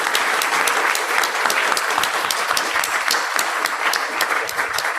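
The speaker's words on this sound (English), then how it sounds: "please join me in applause for this wonderful set of panelists" Dense applause from a conference audience honoring a panel of speakers at a workshop keynote, sustained and steady throughout with a thick wash of many hands clapping.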